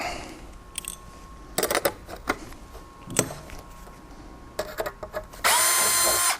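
A power drill whirs in short bursts with clicks and handling noises between, ending in a longer steady 9/64 clearance-drilling run for Dzus fasteners, close up.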